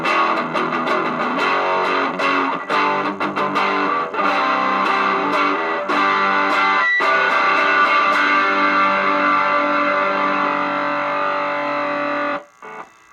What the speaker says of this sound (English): you can tell it's definitely a higher gain distortion